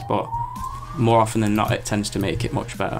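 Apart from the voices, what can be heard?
sirens in the background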